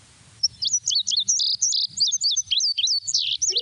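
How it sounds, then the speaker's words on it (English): An indigo bunting sings close and loud, with quick, bright paired chirps and slurred notes in a rapid run, set against a quiet background. "it's an indigo bunting"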